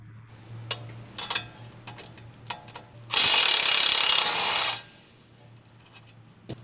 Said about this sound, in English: Using the large 21mm long socket with the large electric impact wrench, remove the outer tie rod end retaining nut.